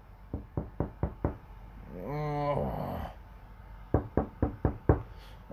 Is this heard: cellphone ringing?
no